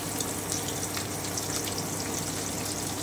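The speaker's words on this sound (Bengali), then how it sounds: "আমি ভেজে নিচ্ছি একটু ভালো করে" Chopped onions frying in a pan with cumin, bay leaf and crushed whole spices, giving a steady, close hiss and crackle of oil that runs unbroken throughout with no talking.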